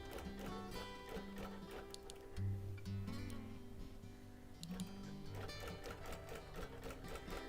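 A sewing machine quilts a linen blend sampler quilt, a steady close mechanical whir with a fine rapid ticking rhythm throughout.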